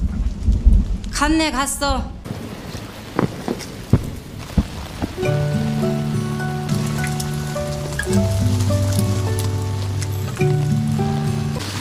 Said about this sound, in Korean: 아이고, 비 쏟아지네.